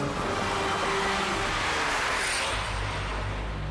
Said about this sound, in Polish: Supra ruszyła delikatnie szybciej, ale zaczynam ją powoli dochodzić.